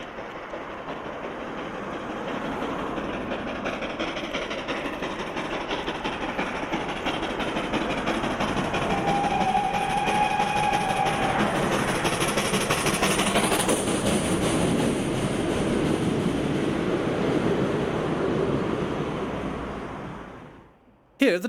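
A passenger train pulls into Belluno station in northern Italy, its steady rumble and clatter of wheels filling the scene, with a brief tonal squeal midway before the sound cuts off abruptly at the end.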